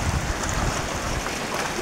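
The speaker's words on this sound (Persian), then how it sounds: "ماسه تمیز، رودخانه تمیز، آب تمیز" A clean river rushes in a steady, dense wash of water that stays loud and unbroken throughout, with no voices over it.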